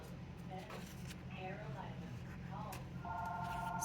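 House telephone ringing in a home, an electronic ring that comes in late and stays faint under a person talking nearby.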